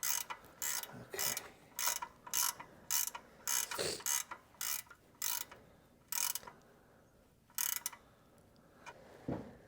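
Torque wrench ratcheting on a valve cover bolt of a 2007 Toyota Highlander, a series of sharp mechanical clicking bursts at a steady rhythm, close and fairly loud, with no voices.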